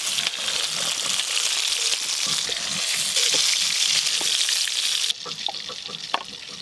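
Eggplant pieces fry in oil with a loud, continuous close-up sizzle and spatter, which drops to quieter scattered crackles for the last second or so.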